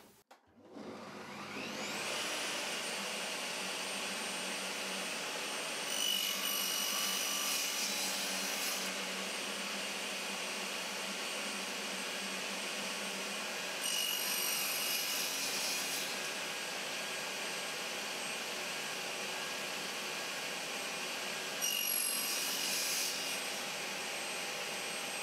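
A table saw cuts finger joints in wood, a steady loud whirring drone running throughout with several brief surges in intensity as each cut passes through the board.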